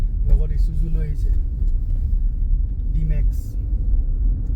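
An Isuzu D-Max and a group of bikers pass on a mountain road from Leh over Khardung La toward Nubra Valley. Steady low engine rumble runs close by beneath ongoing talk.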